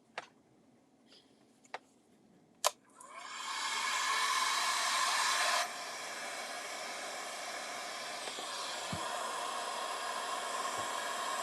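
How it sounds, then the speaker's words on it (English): After a few sharp clicks, a heat gun switches on and blows a steady hiss of hot air over drying crackle paint, dropping slightly in level midway and continuing evenly to the end. "So let's get the heat gun."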